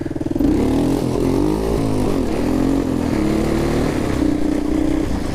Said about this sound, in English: We'll pop a little first gear wheelie here.